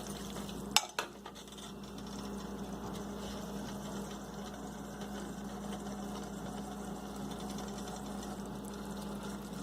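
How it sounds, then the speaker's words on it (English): Corn sautés in a pan with spinach rice for a pulao, a quiet steady frying hiss with a short clatter of utensil on the pan near the start, then continuous low stirring and sizzle. "Now I'm going to add corn. Saute it for 1 to 2 minutes."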